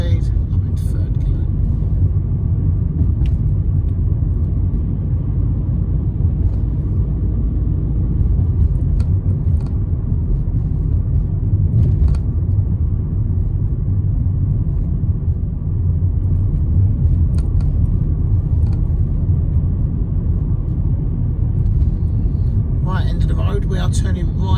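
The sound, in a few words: car driving, accelerating in third gear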